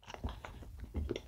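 Close, moist chewing and soft biting of castella bread spread with a runny, sugar-free jam, several bites in quick succession and no talking.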